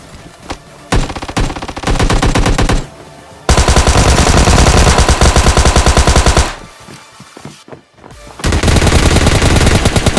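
Automatic gunfire from PUBG Mobile Lite, a solo-versus-squad rush match: rapid bursts of machine-gun fire in long sustained stretches, broken by short pauses and scattered single shots, loud and close with no talking.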